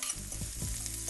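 Finely chopped onions and shallots sizzle steadily in a hot pan, a close, constant frying hiss with soft stirring scrapes.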